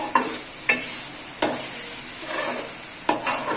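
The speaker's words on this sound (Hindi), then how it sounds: "अब देखिए नाज़रीन इसको अच्छे से मैं इसमें फ्राई करूँगी" Masala for lauki chana dal frying on raised heat, with a steady sizzle and four sharp spoon-against-pan clanks spaced across the stirring.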